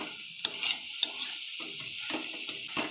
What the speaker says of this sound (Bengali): এবার লবণ হলুদ দিয়ে ভালো করে নাড়াচাড়া করে নেব